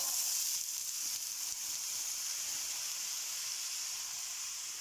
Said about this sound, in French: On va renverser tout le sachet de fruits de mer, de cocktail de fruits de mer.